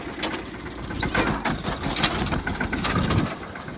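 A farm tractor engine runs steadily on a rural farm plot near a forest, a continuous mechanical rumble with rattling, clattering texture that holds at a fairly even level for the whole stretch, with no talk over it.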